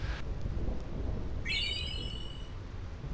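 A thunderclap rumbles across the Thunder Plains in Final Fantasy X, a low rolling boom that runs throughout. A bright chiming game cue rises partway through.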